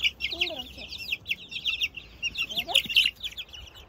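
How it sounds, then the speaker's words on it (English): Many chicks about a month old cheep and peep continuously in a close flock after a storm, with a low voice-like call briefly underneath. "You can see that we still do have a lot of happy, healthy chicks."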